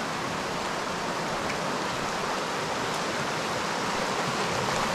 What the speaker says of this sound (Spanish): Se escucha bien bonito el agua del río.